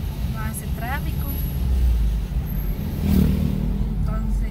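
Saturday street traffic with cars and motorbikes passing on a road, a steady low rumble with a revving engine now and then, under people talking.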